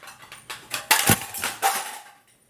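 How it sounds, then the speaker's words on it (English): A 1934-era camping stove clatters onto the floor, a burst of metallic rattling and clanking with several rebounds that peak in a loud crash, then settle into fading jingles. "I dropped my stove. My stove is on the floor."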